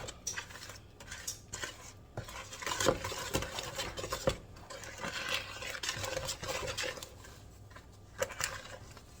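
Brownie batter being mixed by hand in a bowl, a steady run of scraping and clinking from the utensil against the bowl, close and continuous for several seconds with no talking.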